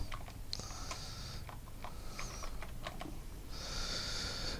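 Keys on a computer keyboard clatter in short irregular bursts as a chemical name is typed into lookup software, a quiet, close clicking with brief pauses and a few faint higher tones between strokes.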